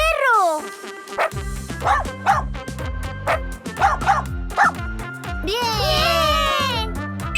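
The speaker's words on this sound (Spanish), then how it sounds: "¡Un perro!" A cartoon dog barks and yips in a lively animated children's scene, several short bright barks over bouncy music with playful sliding sound effects.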